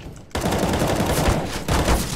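Rapid bursts of automatic gunfire in a shooting video game, loud and continuous with a brief pause at the start and near the end.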